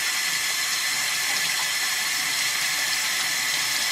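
Water runs steadily from a tap to soak wood for a model railroad trestle, a loud, even hiss with no breaks and no voices.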